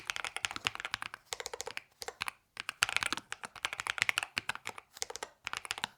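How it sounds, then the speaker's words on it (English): Close, crisp typing on a computer keyboard, a steady flurry of clicky keystrokes broken by brief pauses, with no talking. "let's do a full typing test ASMR style so you can hear the keyboard"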